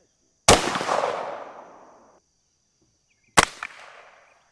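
A Savage Model 42 .410 shotgun fires 2.5-inch buckshot at an outdoor range: two loud, sharp blasts about three seconds apart, each trailing off in a long rolling echo.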